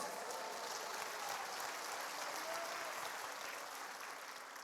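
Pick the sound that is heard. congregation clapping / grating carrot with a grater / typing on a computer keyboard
congregation clapping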